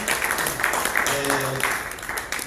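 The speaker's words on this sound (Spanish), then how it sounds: "Le una ofrenda de palmas al Señor." A church congregation claps hands together as an offering of praise to the Lord, steady clapping throughout, with a voice calling out and a sung or sustained tone rising briefly above it.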